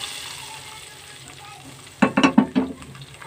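Hot tempering (baghar) poured into a pot of dal gosht gives a burst of loud sizzling and spluttering after a quiet stretch of low kitchen noise, crackling in several quick surges before fading.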